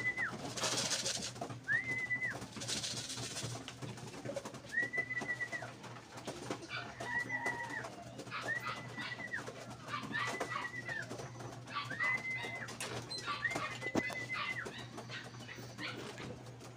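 Racing pigeons at a loft coo and call in a repeated, evenly spaced pattern, with a few bursts of wing flapping early on over a low steady background hum.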